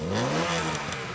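A Volkswagen Golf GTI with a 1.6 16-valve engine revs hard, a loud, close, steady engine note held briefly before easing off.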